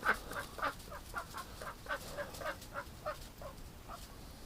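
A domestic duck named Stripper, going broody, gives a run of short, evenly spaced quacks at moderate distance, fairly faint, with no voices.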